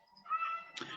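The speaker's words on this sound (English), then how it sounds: "Ladies and gentlemen, that is a horny cat in the background." A cat yowls in the background, a single drawn-out wavering caterwaul lasting under a second, faint and somewhat distant, ending in a brief noisy burst.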